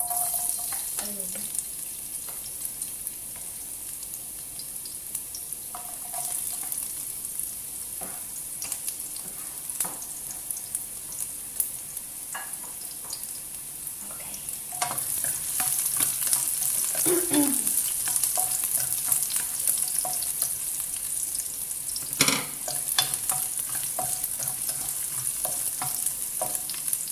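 Water spinach stir-fried in a pan, with steady sizzling and repeated scraping, stirring clatter of a utensil against the pan, growing louder in the second half; no one speaks.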